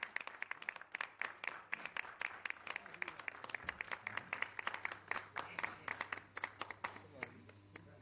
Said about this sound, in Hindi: मलिक तारिक साहब भी बहुत सारी तालियां जी।